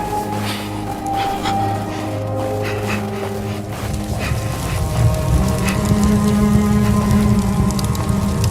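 Hail pelting down in the video game The Fidelio Incident, a dense continuous patter that swells louder and heavier toward the end, with no voice.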